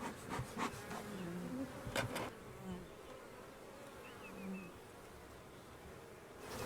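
Honeybees swarm around a beehive, their buzzing steady and close, with a few sharp knocks early on and faint voices in the background.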